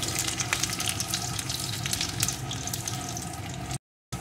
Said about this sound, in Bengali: এখন এর ভিতরে আমি রসুনের কোয়াগুলোকে দিয়ে দেব। রসুনের কোয়াগুলো একটু ভেজে নেব।